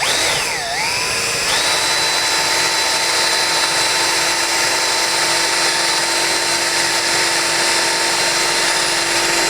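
A cordless drill whirs steadily and loudly, drilling a hole, with a brief pitch dip as it starts before settling into a constant high whine for several seconds.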